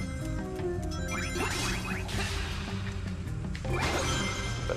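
Crystals being smashed in Sonic Lost World, a series of bright glassy crashes and whooshing sweeps over game music, several impacts spread across the clip at moderate loudness.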